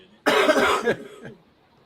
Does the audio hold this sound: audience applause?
no